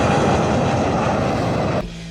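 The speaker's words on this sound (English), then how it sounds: "a loud jet engine covers whatever they were saying" A loud jet engine roars as a dense, steady blast of noise on an airport runway, then cuts abruptly to a low hum near the end.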